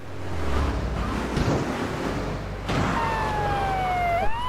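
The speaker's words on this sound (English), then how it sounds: "Police siren on." A video game police siren wails steadily over a busy background rumble, its pitch holding for a couple of seconds before dropping sharply at the end.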